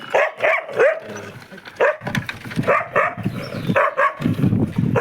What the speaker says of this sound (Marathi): हे मोत्या कसा भोकतोय